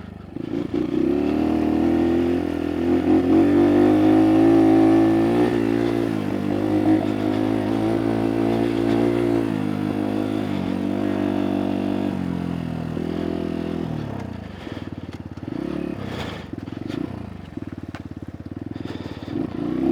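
A Kuba Race 125 motorcycle rides motocross over sand in the evening. Its engine drones steadily and loudly throughout, rising and falling with throttle changes, with clattering from the rough ground and no talk.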